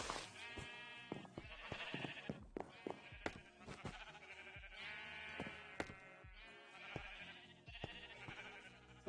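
Brown sheep bleat repeatedly in a mix of short and drawn-out wavering calls, several animals overlapping at close range with brief gaps between cries.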